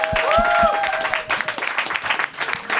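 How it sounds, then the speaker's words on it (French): An audience at a live talk show claps for two guests, a brief burst of applause mixed with a voice speaking over it, the clapping rising then thinning toward the end. "donnez une bonne main d'applaudissement pour Kyron et Paul Taylor"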